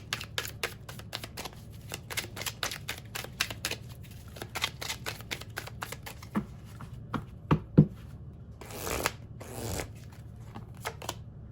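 Tarot cards are shuffled by hand in a long run of quick riffling flutters and taps, close and crisp, with a couple of louder softer whooshes near the end, no talking.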